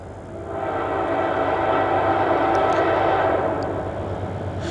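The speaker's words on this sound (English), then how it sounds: "There comes a train!" A train led by a Dash-8 locomotive with four engines plus a heritage unit rumbles past close by, a steady broadband roar that swells and holds, with faint high squeals above the rolling noise.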